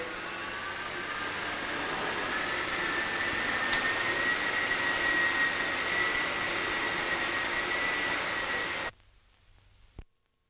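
Wind tunnel compressors 1 through 4 run together for a single-stage supersonic blowdown start, a loud steady broadband roar with a rising whine that holds for about nine seconds and then cuts off abruptly into near silence.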